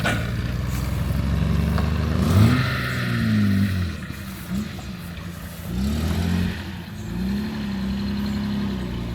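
Prestige convertible car engine at a rally gathering, running loudly and close with rising and falling revs and swelling, droning tones across the clip, no talking.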